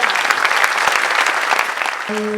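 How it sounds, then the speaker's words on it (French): An audience at a conference on blue-economy and societal issues applauds a speaker, a short dense round of clapping that holds steady before a tonal sound rises at the end. "On peut l'applaudir."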